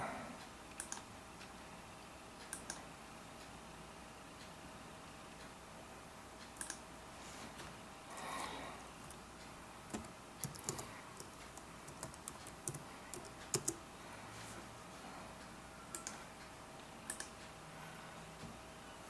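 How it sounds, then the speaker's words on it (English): A song title typed on a computer keyboard, quick irregular key clicks close by over a faint hum, with no voices. "Before I paste it in, I am going to type in the title."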